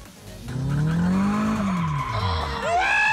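Car tyres squealing and skidding hard at a braai-day drift show, a loud sustained screech that swoops in pitch over engine roar, with a sharp rising squeal near the end.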